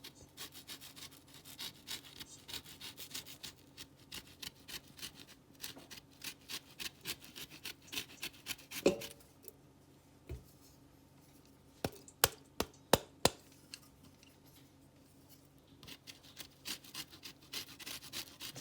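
Orange peel rubbed against a zester or grater for Christmas black cake, a quiet rhythmic scraping of repeated short strokes, pausing midway before a few sharper taps and more rasping.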